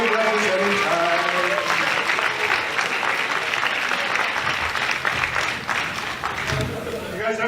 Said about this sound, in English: A round of applause for representing time.